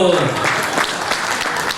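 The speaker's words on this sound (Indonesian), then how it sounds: "oh tepuk tangan dulu" Seminar audience at a real estate agents' motivation gathering in Bandung claps steadily for under two seconds, a dense, even wash of hands with a voice mixed in underneath.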